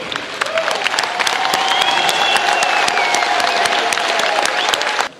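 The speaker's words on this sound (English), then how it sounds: "I want us to stand and give a round of applause to Kipchoge" A large stadium crowd at Nyayo National Stadium in Nairobi applauds steadily for Kipchoge Keino, dense clapping mixed with faint cheers and whistles, loud and sustained before cutting off abruptly.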